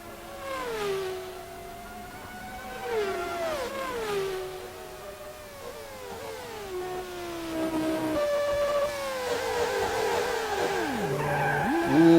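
Race car in a racing video game with locked brakes: tires squeal and skid in several long sliding bursts over engine whine that rises toward the end, fairly loud and continuous.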